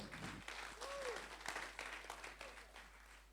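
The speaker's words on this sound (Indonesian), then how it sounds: "Berikan tepuk tangan juga untuk teman-teman choir" Quiet applause from a church congregation for the choir, scattered claps spread over a few seconds with a voice and a brief tonal sweep near the start.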